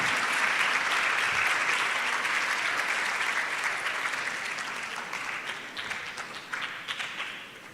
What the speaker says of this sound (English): So once again, shall we please applaud our speaker?